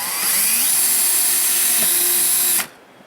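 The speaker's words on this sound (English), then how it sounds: "They love drilling through Corvettes." A power drill whines loudly and steadily as it bores through a C6 Corvette body during an exhaust install, the pitch shifting slightly, then cuts off abruptly near the end.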